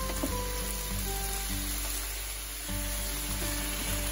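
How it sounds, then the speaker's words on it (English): Pork slices and shiitake mushrooms sizzle steadily in a hot pan while being stir-fried, a continuous close frying hiss with faint tonal hum underneath and no talking. "And continue mixing it until the meat is slightly brown but not over brown."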